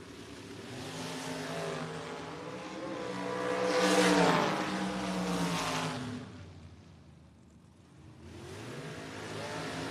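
Drag race cars at the FRBR Independence Showdown roar down the track, the engine noise swelling loud as they pass, then receding and dipping before another engine builds again, heard without talk.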